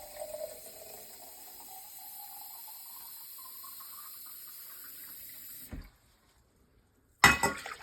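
Water poured steadily into a pint measure for dill pickle brine, a faint, rising trickle that stops, followed after a pause by a short clunk of handling, with no voices.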